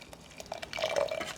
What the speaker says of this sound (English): we'll use the remainder of the water and wash out the rest of the syrup